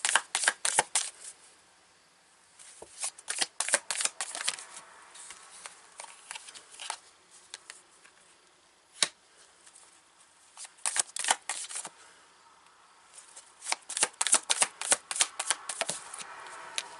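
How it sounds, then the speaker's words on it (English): Tarot cards shuffled by hand in repeated crisp bursts of riffling and flicking, with short pauses between runs, close and fairly quiet with no talking. "Let's pick some more cards here."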